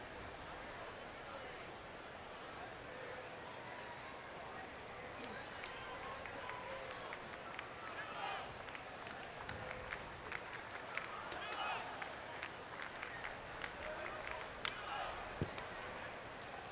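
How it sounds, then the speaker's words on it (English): Baseball crowd in San Diego cheering the Rocky theme chant, a distant, sustained stadium roar laced with scattered claps and shouts that grow denser toward the end. "They got that cheer working here in San Diego."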